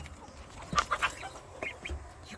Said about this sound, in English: I'll show you guys the ducks if I can.